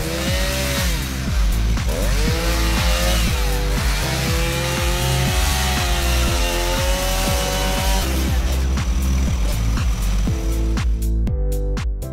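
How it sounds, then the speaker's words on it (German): A loud motorized drill runs nonstop, its engine whining and surging in pitch as it bores steadily through ice two meters thick, then cuts off near the end. "Ein Loch in eine 2 Meter dicke Eisdecke bohren?"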